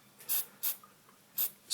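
Contact cleaner sprayed from a can into a scratchy wah pedal's potentiometer, four quick short hissing bursts, close and quiet, spaced irregularly.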